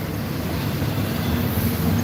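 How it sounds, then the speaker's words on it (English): A freight train led by the Illinois Terminal heritage locomotive rolls steadily past at sunrise in Greenville, Tennessee, a loud continuous rumble of wheels and cars close by. "Eastbound train 288. And it's 1072, the Illinois Terminal Heritage Unit leading."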